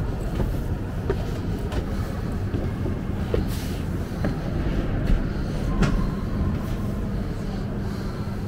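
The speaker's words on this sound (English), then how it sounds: "Steam trains." A steam train rumbling along with a steady low chug and occasional clanks, heard fairly close, with faint voices in the background, at a railway museum in York.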